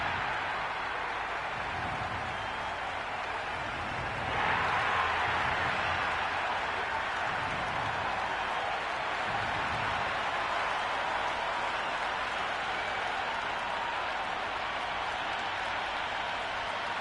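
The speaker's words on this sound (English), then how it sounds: "already the crowd making a hell of a racket" A packed cricket stadium crowd at an IPL match between RCB and GT makes a dense, continuous roar, swelling briefly a few seconds in and holding steady without a break.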